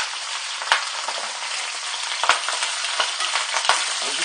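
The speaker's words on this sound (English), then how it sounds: "basically you just want to start frying them." Bell peppers frying in a pan for stuffed peppers, giving a steady close hiss and sizzle throughout, with a few sharp ticks and stirring scrapes and no talking.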